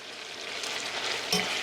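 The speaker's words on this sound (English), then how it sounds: "Now all of my chicken is in the frying pan" Steady sizzling of chicken frying in a pan, a continuous hiss with a brief louder crackle near the end.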